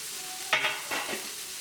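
Leeks and tomatoes frying in hot oil, a steady close sizzle broken by a couple of quick scraping stirs of a utensil against the pan.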